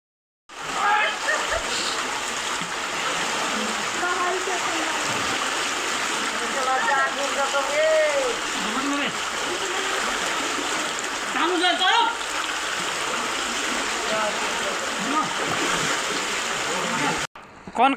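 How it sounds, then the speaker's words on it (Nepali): The Kankai river, swollen by overnight rain, roars in a continuous broadband rush of floodwater, loud and steady throughout, with a voice talking over it. "अविरल वर्षाका कारणले कन्काई नदीमा आएको यो बाढी"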